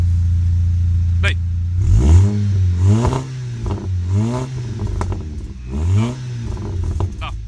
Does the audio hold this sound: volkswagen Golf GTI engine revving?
yes